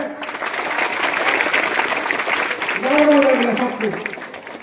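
Loud, sustained clapping from a crowd at a school comedy puppet show fills the stretch, with a voice briefly rising over it near the end.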